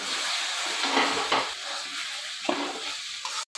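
Spices stirred and fried in oil in a pan, a continuous close sizzle with scraping stir strokes throughout and a few sharper clinks, ending abruptly.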